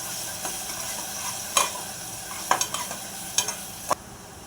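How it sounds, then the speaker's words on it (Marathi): Green chili paste and onion sauté in oil, producing a low, steady sizzle broken by several sharp scrapes and taps of a spoon against the pan, with no voices. "तेलामध्ये परतून घेऊ।"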